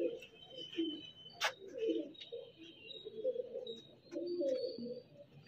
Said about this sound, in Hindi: ले भाई, एक कबूतर ये दिया भाई को